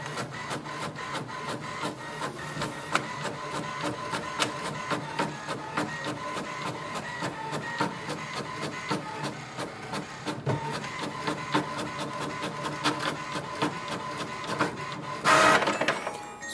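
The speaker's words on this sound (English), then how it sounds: "So printer has printed the welcome sheet." An HP Envy 6020e inkjet printer prints a welcome sheet, giving a steady run of close mechanical whirring and rhythmic clicking print-head passes, then a brief louder paper-feed burst near the end.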